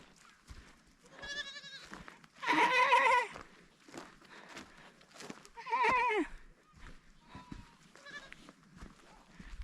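Goats and lambs bleating at close range on a trip through Ladakh, with several loud, wavering calls and softer intermittent bleats around them.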